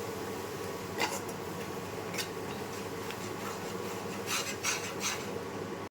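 A spoon scrapes and rubs through a turmeric and red chili spice mix in a pan over a low gas flame, a steady close rasping with occasional stronger strokes.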